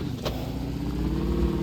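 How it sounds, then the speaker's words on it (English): A four-wheeler engine in a Roblox off-road game hums steadily and low, a continuous idling drone with a brief higher whoosh near the start, heard alone without talk. "we're getting on our four-wheeler right now"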